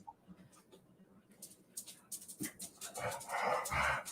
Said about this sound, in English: you're going to hear Jasper panting for a while